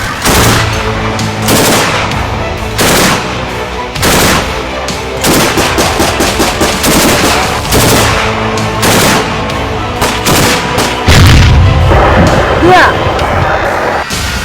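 Bursts of heavy automatic anti-aircraft gunfire at a drone pound repeatedly at close range, rapid thudding volleys with short pauses, while shouted voices call out over the shooting, on the Russian-Ukrainian front line.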